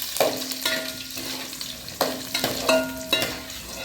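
Small shallots and garlic fry in a hot pan, a steady sizzle broken by a few sharp stirring scrapes from a spoon against the metal, close and clear with no voices.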